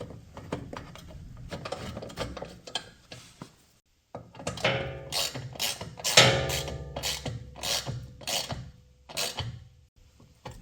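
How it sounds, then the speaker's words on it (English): Socket ratchet on an 8 mm bolt fastening a front mud flap on a 2019-2023 Ford Ranger, giving repeated close mechanical clicks and creaks in bursts with a short pause midway. "This is an 8 millimeter socket for this bolt."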